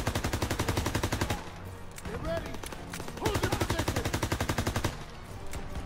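Sustained rapid-fire shooting from a gun in a Call of Duty WW2 campaign battle, a dense, steady rattle that briefly thins out before resuming just as hard, with voices heard between bursts.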